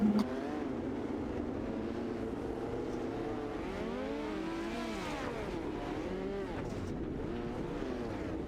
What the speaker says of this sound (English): A little bit of donut action there on the front straightaway from your race winner